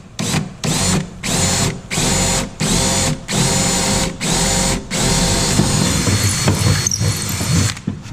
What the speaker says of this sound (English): I'm going to go ahead and drill this